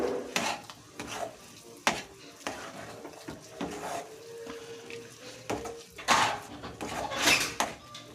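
A spoon stirs and mixes spiced potato filling with coriander in a pan on the stove, with irregular scraping clatters and metallic knocks under a faint background hum.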